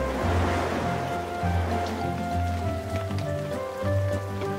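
Rain falling steadily in a children's animated cartoon about trucks, with a tractor, loader and combine left out in the downpour; a soft continuous patter with droplets and a faint tonal music bed underneath, no voices.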